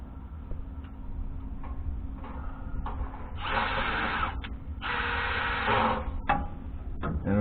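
Two bursts of a drill driver whirring for about a second each as it drives a screw into a John Deere 9770 combine firestop tin kit, close by, with faint ticking and handling noises in between.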